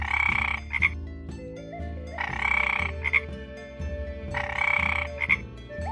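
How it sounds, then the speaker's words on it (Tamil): A frog croaks in loud, rhythmic bursts, three strong pulsing croaks each with a short trailing call, set over a repeating low musical backing. "தவளை"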